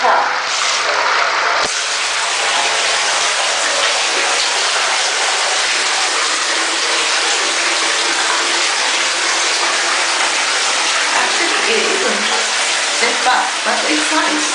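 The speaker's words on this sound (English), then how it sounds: "So the water's coming automatically." Water pours steadily from the tap into a bathtub in a Tokyo hotel bathroom, a constant loud gushing hiss that runs unbroken throughout.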